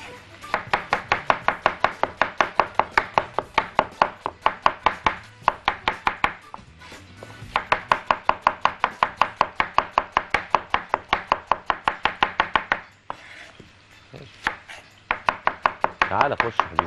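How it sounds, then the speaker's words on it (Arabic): White onions chopped rapidly with a knife on a board: fast, even bursts of sharp close taps in long runs, broken by short pauses, loud and alone. "قطعنا كده ايه البصل"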